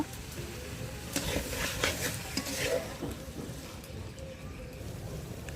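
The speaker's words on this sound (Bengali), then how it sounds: "নেড়ে ছেড়ে আমি মিশিয়ে নিব।" Marinated duck meat is stirred and tossed in a pan, a soft, fairly quiet scraping and shuffling with a faint sizzle underneath, steady over several seconds.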